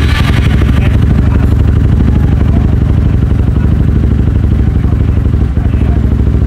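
A Yamaha X-Max scooter, test-tuned for 190+ km/h, idles loud and close after sitting parked for several months. The single-cylinder putter is steady and rapid, with a dense mechanical clatter throughout.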